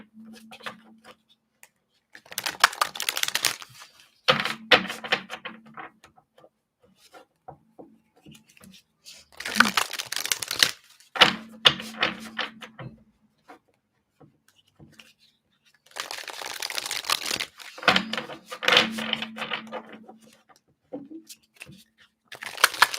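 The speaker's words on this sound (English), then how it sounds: "I just wanted to shuffle on camera" Playing cards shuffled by hand in several bursts of crisp riffling and ruffling, up close, with quiet pauses between shuffles and no talking.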